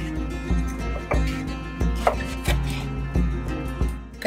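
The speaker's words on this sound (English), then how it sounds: "I'm now going to slice the red pepper." A knife slices through a red pepper on a cutting board, steady knocks of the blade roughly every half second, close and clear in a quiet kitchen.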